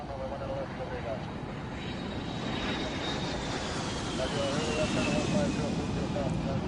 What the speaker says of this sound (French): un autre vol Jeannette décolle en direction de Groom Lake